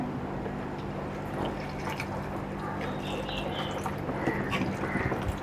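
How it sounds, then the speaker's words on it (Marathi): Water is poured into a cooking pan over steady background noise, with soft splashing and a few drips and trickles, close and fairly quiet. "आता पाणी टाकून घेऊया"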